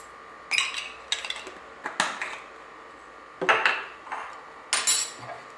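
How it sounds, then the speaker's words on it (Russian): Coriander and mixed peppers crushed in a kitchen for a fish marinade, heard as about five short bursts of clinking, grinding scrapes with pauses between them, close and fairly quiet, no voices. "И немного его раздавливаем. Просто немного раздавить."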